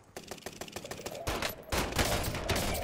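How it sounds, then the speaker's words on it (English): Rapid video game gunfire rattles in fast bursts, first a quick run of distinct shots and then louder, denser sustained firing that stays close and heavy to the end. "I was point blank shooting him in the face."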